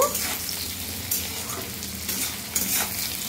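Potatoes and onions frying in oil in a pan while being stirred, a steady sizzle with scraping spatula strokes at irregular intervals, close and moderately loud, no voices.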